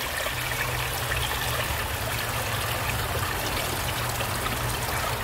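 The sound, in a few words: pond water being poured into a cooler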